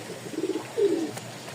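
Pigeons at a pigeon farm coo in a short, close exchange: a quick stuttering burst of cooing followed by one longer rolling coo.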